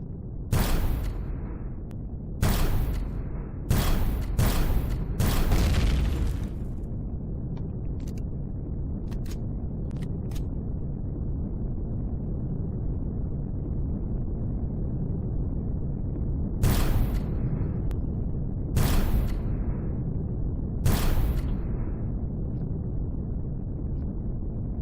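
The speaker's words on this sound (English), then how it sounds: "I hear robo turrets" Robot turrets fire in Empyrion Galactic Survival, with sharp blasts in two clusters, several rapid shots early and three more later, over a steady low humming background.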